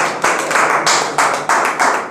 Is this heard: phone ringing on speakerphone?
no